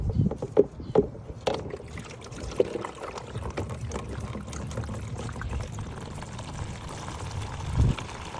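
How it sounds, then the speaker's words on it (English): Coolant drains from a 2005 Suzuki GSXR 600 motorcycle during a flush, a soft irregular pouring and trickling of liquid heard close up with a few light clunks. "we are flushing out the coolant"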